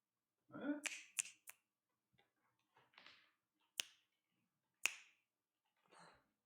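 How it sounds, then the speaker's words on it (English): Sharp finger snaps made close to a microphone, a handful of crisp isolated clicks spaced irregularly with short gaps of silence, one soft voice murmur near the start. "You continue to snap in front of the mic."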